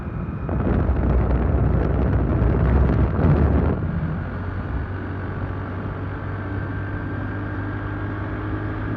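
A Honda motorcycle engine fires up with a loud, rough burst of revving for about three seconds, then settles into a steady, lower idle hum that continues to the end, recorded close by.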